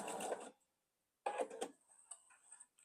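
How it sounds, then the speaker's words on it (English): A sewing machine stitches a short quilt block seam in two brief whirring runs separated by a silent pause, followed by faint clicks and small handling noises, close and quiet, without talk. "just sew about 1/2 inch on either side of the intersection"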